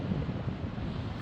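Steady wind buffets the microphone outdoors on the coast on a mild day, a loud continuous rumbling roar with no voices.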